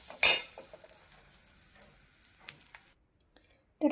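Grated coconut roasting in a pan, with a sharp metal clink of a spoon at the start, then soft scraping stirring and light sizzling that drops to near silence before another clink at the end.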